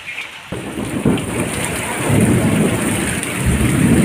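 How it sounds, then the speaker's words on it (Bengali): Heavy Kalbaisakhi (nor'wester) storm rain pours down in a dense, steady roar while gusty wind swells and rumbles underneath, growing louder over the few seconds. "প্রচণ্ড বৃষ্টি হচ্ছে, সঙ্গে ঝোড়ো হাওয়াটাও আবার শুরু হয়েছে।"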